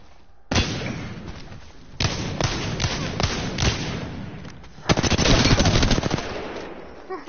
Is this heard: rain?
no